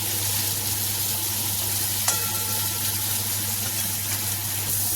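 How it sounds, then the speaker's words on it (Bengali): Prawns fry in hot oil with a loud, continuous, even sizzle that stays close throughout, broken by one brief tap near the middle. "চিংড়ি মাছ কিন্তু বেশি ভাজার দরকার হয় না, একটু তবু এপিট ওপিট করে ভেজে নিতে হয়।"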